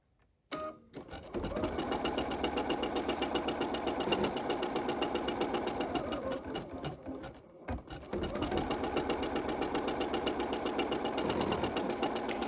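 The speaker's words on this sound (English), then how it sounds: "this is the machine program, just kind of working everything in and kind of basting the roving down" A felting machine runs its program basting wool roving down onto a mixed media collage, a loud rapid mechanical needle chatter that runs steadily, dips briefly in the middle, then resumes at full pace.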